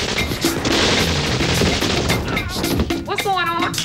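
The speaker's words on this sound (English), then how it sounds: "It sounds like machine guns." Machine gun fire from a drive-by shooting in a 1995 comedy film, rapid dense bursts ringing out loudly and continuously, with voices and sharp shouts breaking through near the end.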